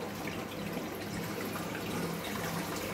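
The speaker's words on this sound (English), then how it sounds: "Water's flowing out." Water pours steadily out of the end of a plumbing pipe elbow in a fish room, a continuous broadband rush with no pauses, fairly close and with no voices.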